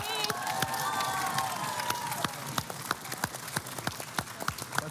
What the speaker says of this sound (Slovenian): Dajte en aplavz za njih.